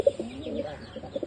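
Soft, low cooing of native pigeons close by inside a pigeon house on a poultry farm, a few murmuring coos overlapping in a quiet space.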